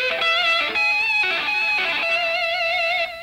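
Octaves on an electric guitar picked with the pick tucked between the first and second fingers, in 1980s style, ringing as a steady run of sustained, brightly harmonic notes close up, with no talking.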